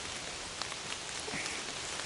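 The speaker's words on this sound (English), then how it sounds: "there's definitely a lot of water falling out of the tree" Rainwater dripping and falling from a tree onto the ground after rain, a steady dense patter of drops with a few louder splats, close by and with no voices.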